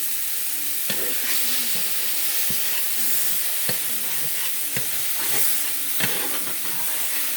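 Squash fried in a floured coating sizzles steadily in a pan while a utensil stirs it, with scraping strokes and soft clicks over a continuous hiss, close and alone with no talk.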